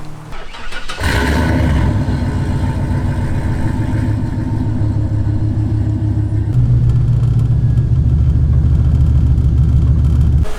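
A pickup truck's engine cranks and starts loudly up close, then rumbles steadily at idle before the pitch shifts as it pulls forward.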